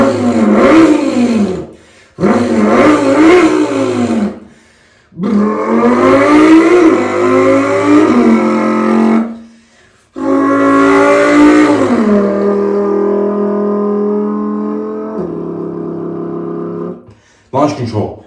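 A voice imitates a Lamborghini Huracan V10 engine by mouth: several loud revving bursts rising and falling in pitch, separated by short pauses, ending in a long climbing howl that settles and fades.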